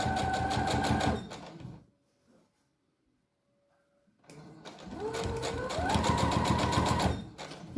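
A sewing machine stitching bias binding along a fabric edge, running in a steady fast whir, pausing for a few quiet seconds, then starting again and speeding up, close and clear with no talking.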